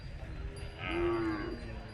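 A single low, drawn-out moo from an ox rises and fades over about a second, heard against steady outdoor background noise at a cattle fair in Chadchan.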